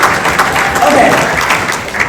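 An audience at a business event gives a short, dense round of applause, loud and close, with a voice speaking over the clapping.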